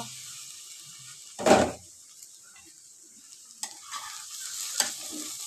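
Bottle gourd peel frying in a pan, stirred once with a loud scrape and rustle, then a low background sizzle with a few light clinks of a utensil against the pan.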